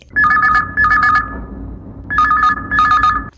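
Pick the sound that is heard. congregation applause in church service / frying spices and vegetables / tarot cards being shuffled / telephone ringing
telephone ringing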